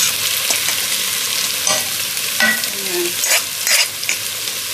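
Fried rice stir-frying in a hot pan, a steady loud sizzle with scraping stir strokes throughout, close up and alone without talk.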